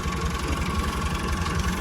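A tractor engine with a loose tappet and a changed sound idles steadily, close and loud, with a continuous low chugging rumble and no talk.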